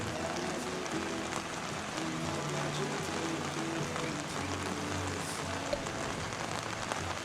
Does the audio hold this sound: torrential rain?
yes